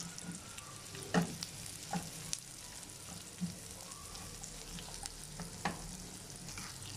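Carrots fry in a hot pan, a steady crackling sizzle with occasional scraping knocks as they are stirred, heard up close with no talking.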